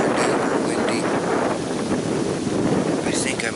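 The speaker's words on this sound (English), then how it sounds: "It's super duper windy." Strong wind buffets the microphone outdoors at a hunting spot, a loud continuous roar with gusty swells throughout.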